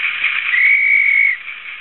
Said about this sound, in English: Then we've got guard's whistle,